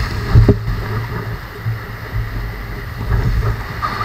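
Waves churn around a kayak on the ocean, a continuous low wash of water and wind with a brief splash near the start and small swells after.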